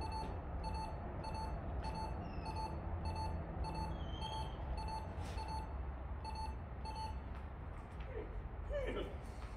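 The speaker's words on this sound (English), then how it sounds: "when you hear the change in the tone on the beeper" An electronic beeper sounds a repeating series of short, high beeps under a constant background hum, the tone shifting partway through.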